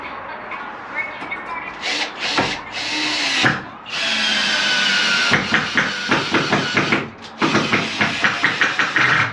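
A power drill drives a screw into a breeze block garage wall, with loud, close whirring bursts that stop and start, followed by a run of rapid rhythmic pulses as the screw bites in.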